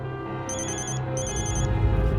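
A telephone bell rings in two short, rapid trilling bursts, separated by a brief pause, over a steady background drone.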